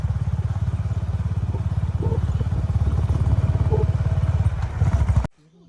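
A motorcycle engine runs close and steady with a rough, throbbing idle and some clatter as it is ridden up on a hillside village path, then cuts off abruptly near the end as it is parked.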